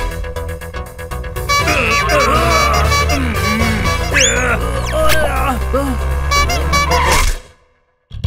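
Cartoon vehicle horn blaring a loud, continuous melodic honking tune with shifting pitches for about seven seconds, then cutting off abruptly into near silence.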